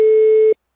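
A single steady telephone line tone from a prank call sounds for about half a second, loud and clear, then cuts off into silence.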